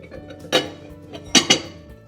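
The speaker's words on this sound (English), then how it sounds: "I'm just going to use a plate so that some of the steam can escape" A plate set over a dish of broccoli before microwaving in a Breville Quick Touch microwave gives a few sharp ceramic clinks, one then a quick pair, close and fairly soft against a quiet kitchen.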